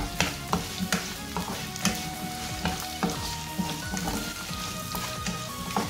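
Shallots sizzling and sautéing in oil in a pan for a Tamil shallot-garlic curry, a dense continuous crackle punctuated by regular scraping stirs, close and alone without talking.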